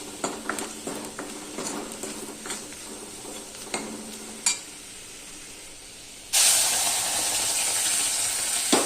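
Tomatoes are poured into a pan with curry powder to sauté. Scattered soft stirring clicks come first, then a sudden loud, steady sizzle erupts and continues close up.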